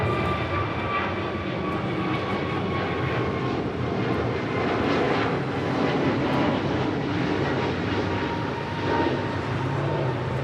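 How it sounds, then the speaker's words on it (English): An American Airlines Airbus A321neo departs Los Angeles International, its jet engines a steady, loud broadband roar with faint whining tones that holds evenly for the whole stretch, no voices over it. "This is American 481 departing to Philly on an A321neo."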